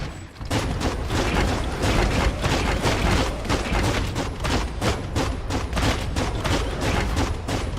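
Dense, continuous gunfire rattles in Biomutant, a loud fusillade of rapid overlapping shots and impacts that carries on without pause from start to finish.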